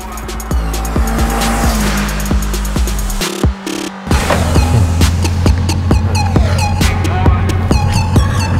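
A Hyundai Santro driven hard on the road, its engine revving loudly and changing gears with a steady drone and rising, falling pitch, tires faintly squealing, close and continuous.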